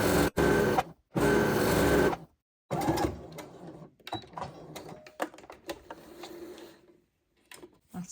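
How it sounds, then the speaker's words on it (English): A sewing machine stitches a hem on fabric for a furniture flip project, with bursts of rapid mechanical whirring and clatter broken by pauses, then lighter handling clicks and taps up close. "I'm just going to pin that in place now and sew it on the machine."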